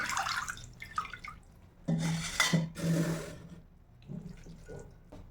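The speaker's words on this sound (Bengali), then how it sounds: "ঠান্ডা জল আছে, এবার এখানে আমি ঢেলে দেবো।" Cold water is poured out, heard as uneven splashing and trickling in several short bursts, with dripping and rubbing sounds between them.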